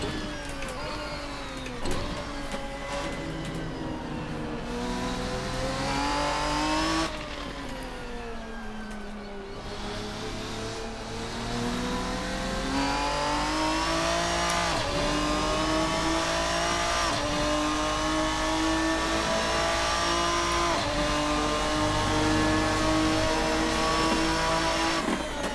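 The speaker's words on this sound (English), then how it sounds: "Just a tremendous, tremendous sense of acceleration with this car." A Race Sim Studio Ferruccio 57 race car in the Assetto Corsa racing game revs hard through repeated upshifts, the engine note climbing, dropping and climbing again, loud and continuous with no talking.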